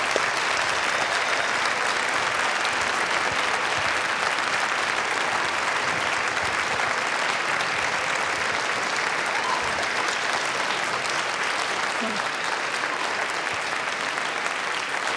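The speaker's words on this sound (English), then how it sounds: "let's have a round of applause for our panelists." Sustained applause from a seated audience for the panelists after a talk on animation, comics and graphic novels, a dense, even wash of clapping holding steady for about fifteen seconds.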